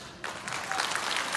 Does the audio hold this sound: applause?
yes